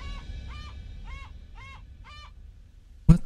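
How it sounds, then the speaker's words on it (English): Bird call in the video game Uncharted: Drake's Fortune: five evenly spaced, hooting honk-like cries at a moderate distance, followed by a sharp, close thud. "Freaking bird or something."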